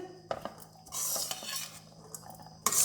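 Grated coconut being mixed into chickpea sundal in a pan, a few brief scrapes and metal clinks of a spoon against the vessel, close and quiet, with no talking.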